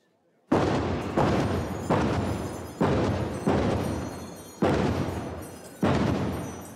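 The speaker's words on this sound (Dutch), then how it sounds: "Jo, er wordt geschoten." Gunshots ring out at a Limburg procession festival: seven loud, sharp blasts at irregular intervals of roughly a second, each followed by a decaying echo, with no talk between them.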